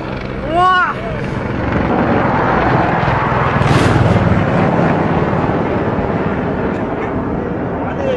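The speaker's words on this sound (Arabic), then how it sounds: "تحليق طائرات الاحتلال الروسي" A Russian military aircraft roars steadily overhead above a village in the Jabal al-Zawiya area of Syria during the war, with a loud, continuous engine drone and a short burst of voice near the start.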